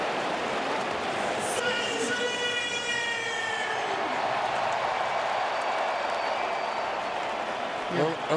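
Stadium crowd at a Yankees vs Red Sox wild card baseball game, a steady loud roar of cheering sustained throughout, with a commentator talking over it and faint whistle-like tones early on.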